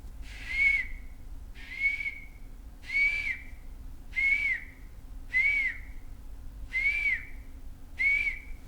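A man imitates a lost peacock chick calling for its mother, producing seven short, thin, rising whistled peeps at a steady rhythm of roughly one per second, fairly soft and close.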